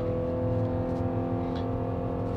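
A Ram pickup towing a heavy load uphill on a long mountain climb, its engine held at high revs in a loud, steady, strained drone with a strong harmonic hum and no speech.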